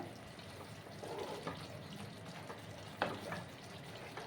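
Faint stirring of a pumpkin and potato curry in a pan, a soft wet scraping with a low simmering sizzle and a couple of light utensil knocks, quiet and steady.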